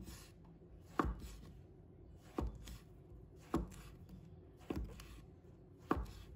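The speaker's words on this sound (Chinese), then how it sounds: "把它切成菱形段" Knife chopping a king oyster mushroom into diamond-shaped pieces on a cutting board, with five distinct sharp chops spaced about a second apart, close and quiet.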